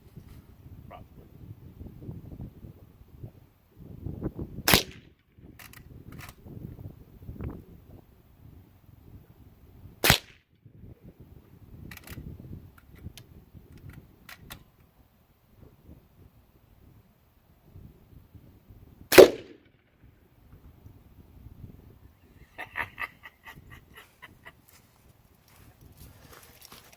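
Rimfire rifle shots with Federal 40 grain rounds at 1,240 feet per second striking a tannerite target, heard as three sharp, loud cracks spaced apart over quiet outdoor background with faint shuffling.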